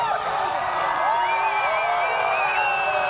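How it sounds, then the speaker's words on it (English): A large outdoor crowd watching a total solar eclipse cheers and whoops continuously, with high shouts and whistles rising over a dense roar of voices. "People are cheering."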